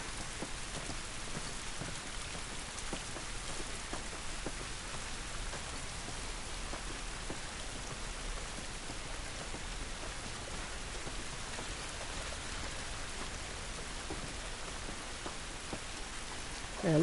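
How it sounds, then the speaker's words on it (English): Rain falls outdoors in the video game The Last of Us, a steady, even patter and hiss of drops on surfaces holding constant throughout, with no talk over it. "It's raining, can't do us any good."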